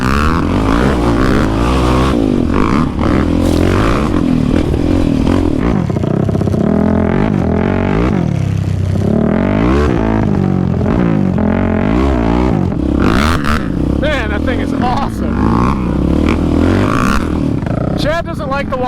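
A Honda TRX450R ATV fitted with a Dasa exhaust revs and roars continuously while riding, its engine note rising and falling loudly close by, with a rider's voice over the noise.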